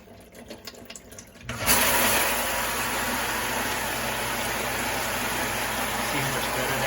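GE dishwasher's upper rack spray jets running: after a short rattly start, a strong steady wash of spraying water switches on and holds loud and even to the end.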